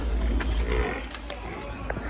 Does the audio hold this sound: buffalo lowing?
yes